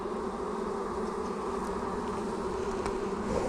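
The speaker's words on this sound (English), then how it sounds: "not a massive amount of bees in this box" A dense, steady hum of many honey bees buzzing close by in a hive box, continuous and unbroken throughout with no voices.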